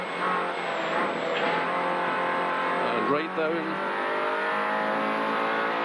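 A rally car races flat out along a stage, its engine roaring loud and close throughout with a brief rise in pitch midway, while a commentator talks over it.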